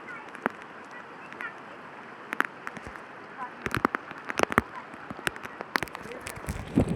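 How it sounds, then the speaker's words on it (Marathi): Heavy rain pours outdoors by a river, a steady broadband hiss with scattered sharp drops and crackles across the whole stretch, while a voice speaks intermittently over the downpour. "तर अशा प्रकारे जोरदार पाऊस आलेला आहे"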